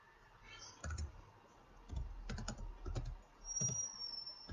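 Password being typed on a computer keyboard: fairly quiet, irregular clusters of key clicks and taps, close up, with no talking.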